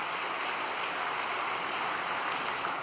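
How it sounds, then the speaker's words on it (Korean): A church congregation claps in encouragement, a dense, even roar of many hands that holds steady throughout without breaks or voices. "다시 한번 우리 구리대교회를 위해 큰 격려의 박수를 보내주시기 바랍니다"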